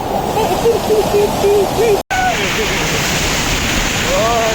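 Hogenakkal waterfall roars as a loud, steady rush of falling water, close by and continuous, with a voice talking briefly over it and a momentary dropout midway.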